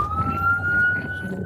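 A fire engine siren wails steadily while the truck responds to a call in Tallahassee, Florida, a single sustained tone rising slightly in pitch over the low rumble of the moving vehicle.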